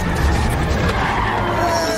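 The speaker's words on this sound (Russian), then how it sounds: "Тормози, супергрузовик!" A cartoon super truck brakes hard, its tires skidding loudly in a sharp, sustained screech across the whole two seconds, with no voice over it.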